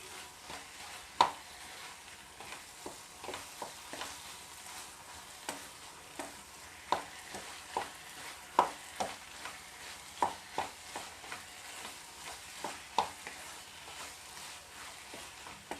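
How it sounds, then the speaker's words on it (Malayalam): Plantain thoran being stir-fried in a pan, with a steady low sizzle under a string of sharp clacks and scrapes of a spoon against the pan at an irregular rhythm, heard close up without any talk. "നമ്മളിങ്ങനെ ഉലർത്തിയെടുക്കുമ്പോഴാണ് നല്ല ടേസ്റ്റ് വരുന്നത് വാഴയ്ക്കാത്തോരൻ"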